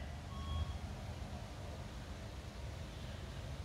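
A big truck idles across the street, a low distant rumble with faint steady drone and a brief high tone early on, heard alone.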